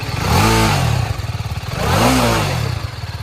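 A TVS Apache RTR 310 motorcycle engine revs up twice, rising and falling in pitch, with a steady rumbling idle between the loud bursts.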